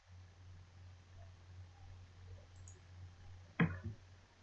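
A single computer mouse click sounds close and faint, followed by a softer second tick, over a quiet low hum with no voice.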